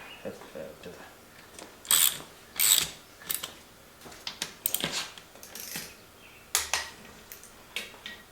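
Ratchet wrench torquing down beadlock wheel bolts, bursts of rapid clicking pawl ratchets with metallic clinks, close and fairly loud, repeated several times.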